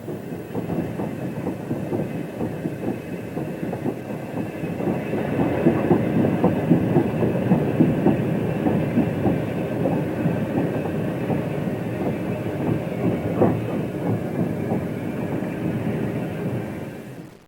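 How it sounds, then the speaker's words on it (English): A Delaware & Hudson Class P1 4-6-2 Pacific steam locomotive, number 651, slows past heading a local train, with a dense rhythmic clatter of wheels on rails, loud and close, swelling slightly in the middle before easing off. "a Class P1 462 Pacific number 651 headed local, slows for orders"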